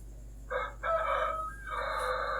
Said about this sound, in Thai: ไก่บ้านผมขันเร็วครับ